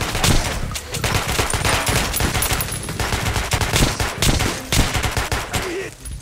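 Sustained gunfire in the video game Metro: Last Light: rapid, dense bursts of shots rattle almost without pause at close range, staying loud throughout with brief dips.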